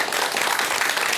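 Audience applause at a Buddhist talk, steady dense clapping filling the whole short moment at moderate loudness with no voices over it.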